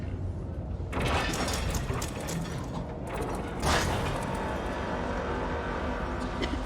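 Poison-spraying machines run in Elder Scrolls Online as a dense, continuous mechanical grinding and whirring with ratcheting, creaking texture and two brief louder hisses, steady and fairly loud with no talking.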